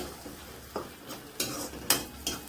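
Chole masala being stirred in a cooking pan, a soft low sizzle with several brief scraping strokes of the spoon at uneven intervals, quiet and close, with no one talking.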